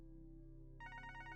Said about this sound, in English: The sound of the phone ringing breaks the silence.